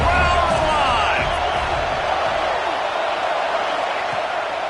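A college football stadium crowd at a Kansas State game roars in a steady, dense wash of cheering and whoops, heard from a distance beneath a speaking voice.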